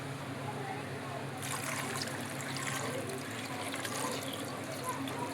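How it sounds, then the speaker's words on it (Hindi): Water pours steadily into a pressure cooker holding washed, halved potatoes, a continuous close splashing and trickling rush with no talk over it. "हमारे आलू गल जाए इतना मैं पानी डालूँगी इसमें"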